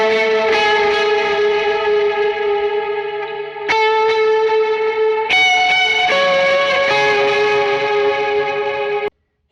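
An electric guitar plays sustained chords and notes through a Tonex Retro Reel modulation effect, sounding warbling and distorted, loud and close, with changes between chords and no talk.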